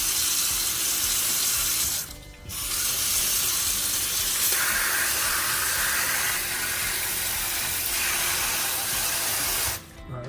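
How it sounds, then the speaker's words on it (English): Tap water runs in a steady hissing stream into a silicone skull ice mold, briefly cutting off twice as the flow is interrupted, close and loud with no voices. "So let's just fill this up with water."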